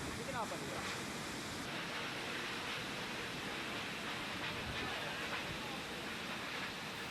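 Strong wind sweeps through a village in Ngepung, Nganjuk, East Java, after heavy rain. It comes as a steady, loud broadband roar that buffets the microphone for the whole stretch, with no clear voices.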